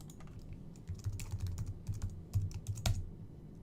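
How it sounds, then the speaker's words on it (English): Someone types a password on a computer keyboard, a quiet close run of irregular key taps ending in a firmer press, with no voices. "I guess I just typed it in wrong the first time."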